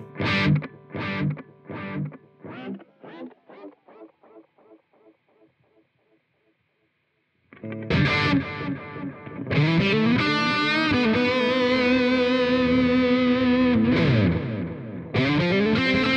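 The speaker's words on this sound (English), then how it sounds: "let's add a delay to it. What about a tape echo?" Electric guitar played through a Soldano SLO-100 amp simulation in AmpliTube 5 with tape echo, distorted notes repeating in decaying echoes that fade out, then a loud sustained driven chord passage follows.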